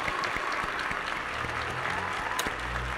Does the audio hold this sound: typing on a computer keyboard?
no